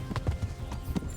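Horse hooves clip-clop in quick, regular beats in the video game Kingdom Come, close and fairly loud, with no talking over them.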